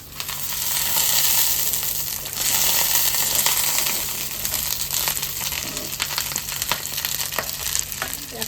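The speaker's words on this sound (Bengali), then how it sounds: "আমি কড়ার চাওয়াতে তেল দিয়ে দেবো দুটো দুটো করে দিয়ে ভেজে নেব" Fish frying in oil in a kadai, a loud, close, continuous sizzle with crackling pops and spatters as pieces cook two at a time.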